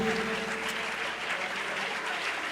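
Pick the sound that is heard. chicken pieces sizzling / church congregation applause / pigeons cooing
church congregation applause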